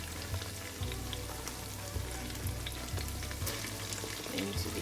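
Tomato fries in a pot for Nigerian jollof rice, a soft continuous sizzle with scattered crackles and a few faint clinks of stirring, quiet and close.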